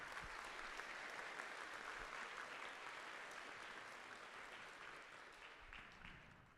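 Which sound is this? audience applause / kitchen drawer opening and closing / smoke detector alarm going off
audience applause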